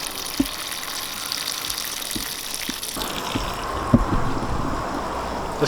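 Water gushes into a rotary tumbler to raise the level before titanium pry bars go in, a steady splashing pour that grows fuller and louder partway through, with a few knocks and no talk.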